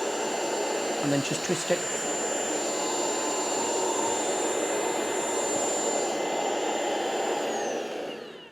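A Tineco PURE ONE S11 cordless stick vacuum runs in max mode with a loud, steady, high whirring whine held for about eight seconds, while a person speaks briefly over it near the start.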